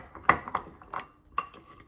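A fork mashing guacamole mixed with a little feta cheese, heard as four or five sharp clinks and scrapes against the bowl, spaced irregularly and fairly close.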